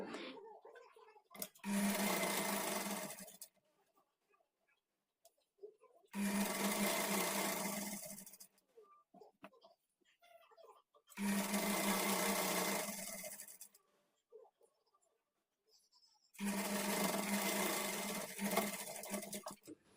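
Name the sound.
sewing machine stitching a kurti hem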